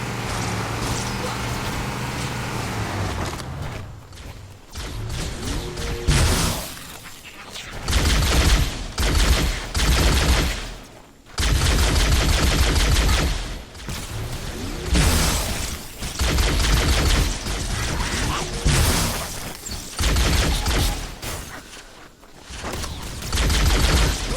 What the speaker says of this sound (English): I don't like these pistols that much, but they're really good.